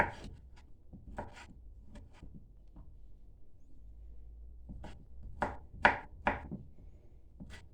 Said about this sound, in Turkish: Şimdi bunları güzel doğrayacağım.